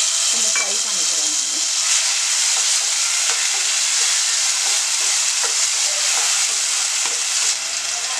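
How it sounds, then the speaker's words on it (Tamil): Fresh pineapple pieces fry in oil in a pan for pineapple kesari, a loud, continuous hissing sizzle close up, with occasional stirring scrapes and no talk. "இப்போ வந்து அதுலயே வந்து நம்ம பைனாப்பிளையும் போட்டு நம்ம ஃப்ரை பண்ணிக்கிறோம்."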